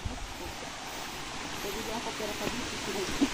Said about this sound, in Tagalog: Naririnig na natin ng agos ng tubig mula sa batis.